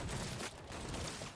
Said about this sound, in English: Dude says as I slaughter him with a pistol.